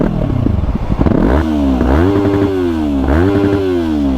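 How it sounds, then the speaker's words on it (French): A warm Yamaha YZF-R3 twin-cylinder with an Akrapovic exhaust revs hard and bounces repeatedly off the rev limiter, loud and close, its pitch climbing and stuttering in a rhythmic pattern. "Je vais vous faire un petit rupteur vu qu'elle est chaude."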